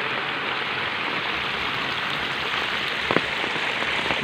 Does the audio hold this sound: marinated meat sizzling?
no